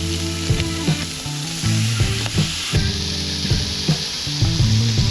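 Food sizzles on an outdoor barbecue with a continuous hiss, while repeated knocks and scrapes of utensils against the grill land close by.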